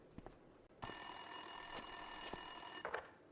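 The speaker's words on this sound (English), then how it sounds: "Winterson's phone was ringing." In the video game Max Payne 2, an office desk telephone rings with a single long electronic bell tone lasting about two seconds. It sounds clear and steady over faint room noise with scattered soft clicks, and no one talks.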